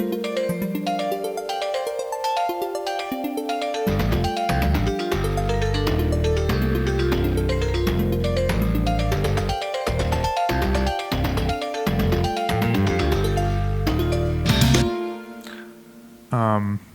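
Two interlocking synth parts trading notes back and forth, soloed from a full production, with sustained tones and a deep bass pulse running through most of it before a brief drop near the end.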